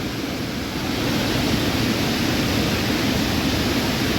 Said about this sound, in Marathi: पाणी जे आहे ते खूप प्रेशरने सोडण्यात आलेलं आहे